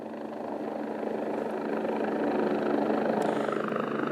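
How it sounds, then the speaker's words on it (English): A helicopter hovers overhead at a search and recovery scene, its steady rotor and engine drone loud and continuous throughout, with no voices heard. "because of the noise of the chopper"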